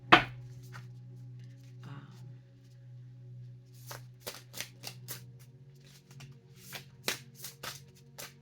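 Tarot cards are shuffled by hand for a reading: soft, close riffling and quick flicking bursts, spaced irregularly over a low steady background hum.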